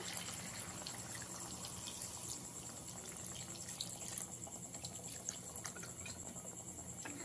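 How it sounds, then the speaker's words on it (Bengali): Water poured into a pot of Bengali chicken and potato curry, a steady splashing, trickling pour that runs continuously and fairly close without any talking. "মেশানো হয়ে গেলে এবারে এর মধ্যে জল দিয়ে দেবো।"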